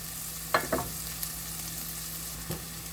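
Ham frying in a pan until crispy for quick savory beans; a continuous close sizzle with a few brief stirring scrapes early on, no voices.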